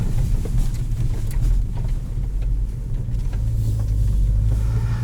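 Inside a 2017 Ford Focus ST driven over a rough road section, a steady low engine and road rumble runs throughout, close and constant, with no talk.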